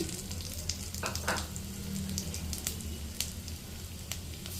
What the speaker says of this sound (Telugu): ఇదే బాండీలో మిగిలిన నూనెను వేసుకోవాలి నూనె కాగిందే జీలకర్ర వేసుకోవాలి